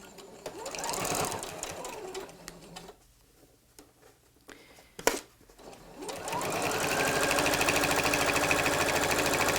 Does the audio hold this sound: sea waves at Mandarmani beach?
no